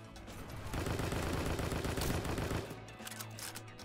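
Rapid sustained gunfire in the video game Strike Force Heroes, a dense burst of shots lasting a couple of seconds, loud and close, then tapering into quieter game sounds with no voices.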